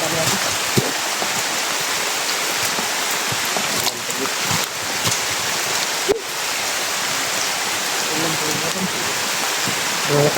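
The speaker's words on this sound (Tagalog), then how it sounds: "Malakas ang ulan." Heavy rain pours down in a continuous, loud, dense hiss, broken by a few sharp knocks and thumps.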